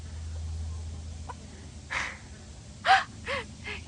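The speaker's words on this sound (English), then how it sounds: "Chickens are so funny." A few short, sharp bird calls from chickens, spaced apart over a low steady background hum, moderately close.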